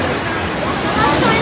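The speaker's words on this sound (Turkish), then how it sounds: "bu su öyle şelale gibi yukarıdan gelmiyor arkadaşlar, yerin dibinden çıkıyor" Cold spring water gushes up from the ground at its source, making a loud, steady rushing hiss that fills the scene without a break.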